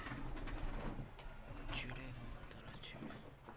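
Pigeons on a rooftop in Mansoorabad give soft, low cooing calls, quiet and somewhat distant against light background noise, with voices faintly present.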